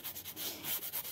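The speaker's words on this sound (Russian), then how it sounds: "даже полностью не дохожу пилочкой до кутикулы, просто убираю блеск" A nail file buffs the shine off acrylic gel nails in quick, close, rhythmic strokes, about eight short rasping scrapes in a little over a second, with no talking.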